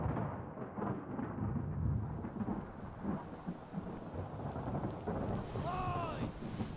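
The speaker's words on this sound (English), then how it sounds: "Storm's coming!" Thunderstorm at sea aboard a ship in Return of the Obra Dinn: a loud, continuous rumble of thunder with rain and wind, and a voice calling out briefly near the end.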